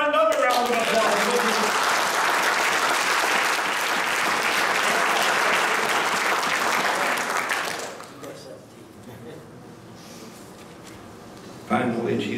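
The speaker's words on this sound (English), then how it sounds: "Give him another round of applause." Audience applause from a large crowd, loud and steady for about eight seconds before dying away to scattered claps and quiet room noise, with a brief sharp sound near the end.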